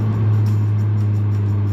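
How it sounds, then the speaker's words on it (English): VW MK7 GTI fitted with a MAP downpipe under acceleration, a loud steady low engine drone heard close for a brief moment. "This car sounds so much crisper."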